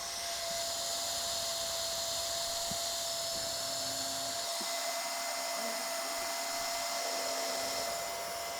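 A hot-air roofing welder blowing a steady, loud airflow while welding material around an EverGuard split pourable sealer pocket on a roof, a continuous hiss and hum with a faint underlying tone and no talk.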